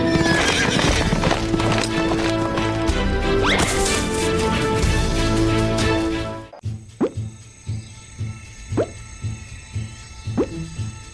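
A horse runs with loud clip-clopping hooves, first under a dense, busy musical mix and crashing effects, then alone as sharp, evenly spaced hoofbeats close by.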